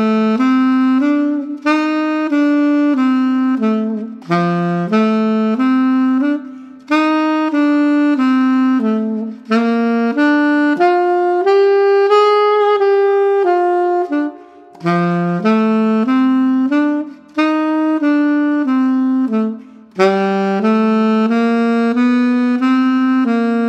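An alto saxophone plays a blues melody over 12-bar chord changes, a continuous stream of clear, bright notes with short breaths between phrases, solo and up close with no talking.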